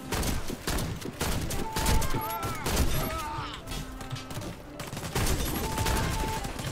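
Shotgun blasts in the video game Warface, repeated loud booming shots amid busy in-game combat sounds and effects, with a player's voice reacting in places.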